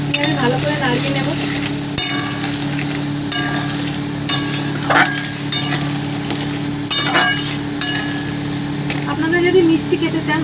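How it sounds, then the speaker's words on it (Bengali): A crab curry is stirred in a pan with turmeric and chili powder, giving soft scraping and sizzling strokes at an irregular rhythm under a steady background hum, with speech over parts of it. "দিয়ে আমি ভালো করে নাড়িয়ে নেব"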